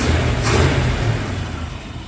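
An old Dodge D100 motor fitted with a new cheap Amazon carburetor runs steadily, a close, even engine rumble with a slight rise early on before settling into a smooth idle.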